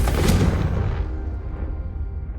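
A Confringo fire spell exploding in the video game Hogwarts Legacy: a heavy, rumbling blast already under way that fades gradually into a low roar, with no talking.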